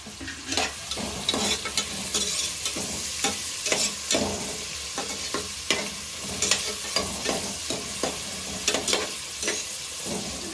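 Onions and curry leaves frying in oil for a country chicken curry, with continuous sizzling and repeated rhythmic scraping strokes of a spoon stirring the pan, close and fairly loud, no voices.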